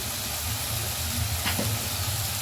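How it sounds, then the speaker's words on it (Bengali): Ground spices with turmeric and chilli powder sizzle steadily in hot oil in a pan while being fried down for a matar paneer curry, a continuous close frying hiss with a brief clink partway through. "এবার মশলাটাকে আমরা একটু ভালো করে কষিয়ে নেব"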